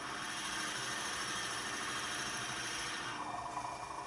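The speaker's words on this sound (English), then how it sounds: "I'm just watching for the drill bit tip to come out the other end." A steady, buzzing drill bores continuously through a wooden pen blank, the pitch shifting slightly near the end, with no talking.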